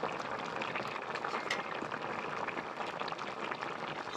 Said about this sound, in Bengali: দেখো ঝোল একদম গপ করে ফুটছে।